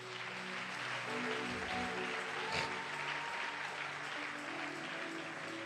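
Church congregation clapping together, a continuous, fairly faint wash of applause heard across the room, with a few voices mixed in underneath.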